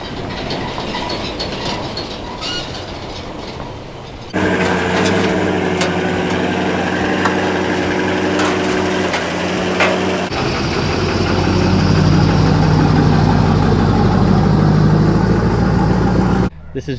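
A 20-year-old Duramax LMM diesel truck pulls away towing a trailer, its loud engine drone and rattling running steadily close by, growing louder midway before cutting off abruptly.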